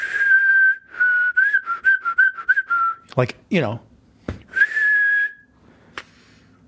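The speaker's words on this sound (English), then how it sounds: "can you whistle?" A person whistles a wavering, bouncy melody of short notes for about three seconds, then a break of thumps and a brief spoken aside, and one more sustained whistled note near the end; close and loud.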